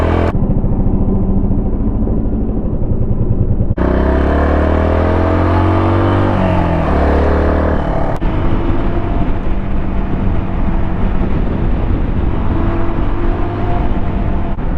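A Suzuki DR200 motorcycle engine roars loudly on a winding road, revving up with a rising whine mid-ride before settling into steady riding noise, close and constant with no talking.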